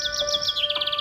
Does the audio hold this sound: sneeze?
no